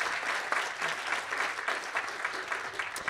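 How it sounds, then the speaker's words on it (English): Sustained applause from an audience at a medical school awards ceremony as an award recipient is honored, steady dense clapping throughout, with no speech over it. "give a round of applause for Michaela."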